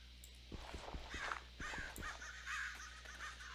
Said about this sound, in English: Crows? That's pretty neat.